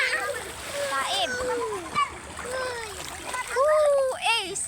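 Children splashing and shrieking in sea water at a beach, with intermittent watery splashes under constant excited kids' shouting and chatter, close and lively throughout.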